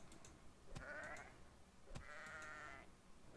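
A sheep in the video game Reign of Kings gives two quiet, wavering bleats, the second a little longer, separated by a short pause and set against faint clicks.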